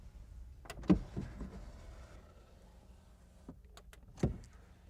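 An electric sliding rear window on a Ford truck fitted with a camper runs its motor in short bursts, with a whirring movement and faint clunks and knocks at the start and end of travel, quiet and close.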